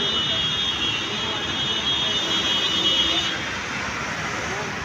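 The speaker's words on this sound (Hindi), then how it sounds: "इसमें भी टू ब्रदर्स के एग्जॉस्ट लगे हुए हैं जो काफ़ी बेसी आवाज़ जो है ना निकालती है" A Suzuki Hayabusa motorcycle fitted with a Two Brothers exhaust gives a steady, loud, bassy roar that holds evenly throughout, heard up close.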